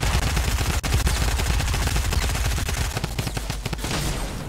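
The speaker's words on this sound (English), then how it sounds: "What if I use this shotgun on him?" Rapid gunfire in a building battle game, a dense loud barrage of shots with sharp cracks layered over constant game noise, continuing without pause through the whole stretch.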